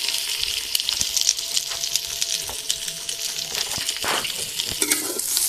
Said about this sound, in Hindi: प्याज रखने के बाद उसको भुजाई चालू होगा